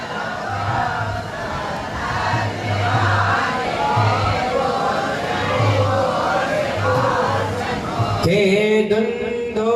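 A group of people chant the Bhaktamar Stotra together in unison, voices steady and full throughout, ending with a louder swell of many voices or applause near the close.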